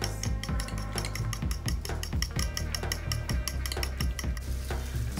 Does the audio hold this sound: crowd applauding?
no